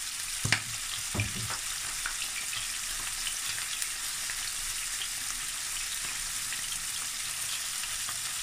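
Chicken liver fries in hot oil with a steady, close sizzle, and a few utensil clatters from stirring come early on. No one speaks.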